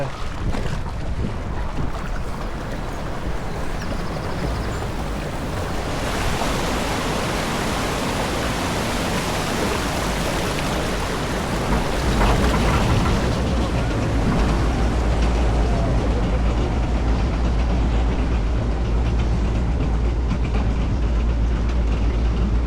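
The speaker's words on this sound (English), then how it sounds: "here we are on the log flume" On the Wild Waterval log flume at Avonturenpark Hellendoorn, a steady roar of rushing water and wind fills the ride, swelling louder partway through as the boat moves along, with no voices heard.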